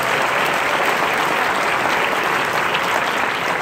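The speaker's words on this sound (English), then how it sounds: "Please give them a round of applause." A band clinic audience in an auditorium breaks into loud, dense, continuous applause, close and sustained for the whole stretch.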